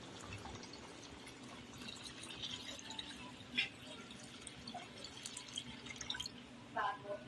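Water added to a pan of burnt caramel syrup for custard cake, faint splashes and drips with a couple of sharper bursts, heard under someone talking.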